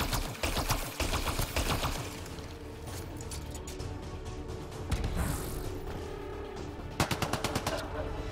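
Rapid gunfire in the video game Mass Effect Andromeda: repeated bursts of sharp automatic shots, loud and close, broken by brief pauses and a few heavier impacts, with some voices mixed in.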